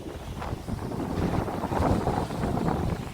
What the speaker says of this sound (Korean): 바람은 북쪽에서 불고 있습니다.